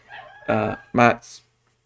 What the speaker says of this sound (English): my rooster's telling me it's time to go